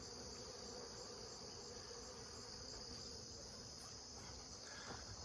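A dense, steady buzz of many bees hums without a break, with no voices.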